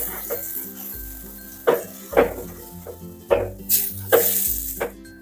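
Pea paratha filling with gram flour stirred in a pan, soft sizzling with repeated scraping strokes of a spoon against the metal in an irregular rhythm, close by, over faint background music.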